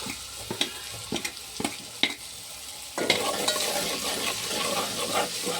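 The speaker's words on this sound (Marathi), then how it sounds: "आता आपण आधी टाकू आपले कोरडे मसाले, लाल मिरची, धना पावडर, मीठ आणि हळद" Dry spices (red chilli powder, coriander powder, salt and turmeric) go into hot oil for a potato bhaji, with a few sharp spoon clinks and scrapes at first, then a steady, close sizzle and stirring.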